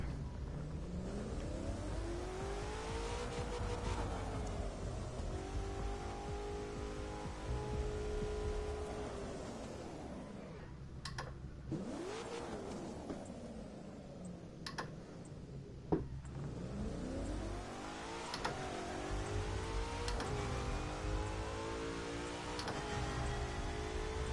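Game car engines from The Crew 2, a Camaro and a Mercedes, drone and rev steadily with rising and falling pitch, a few sharp ticks and gear shifts breaking in mid-way, loud and continuous without talk.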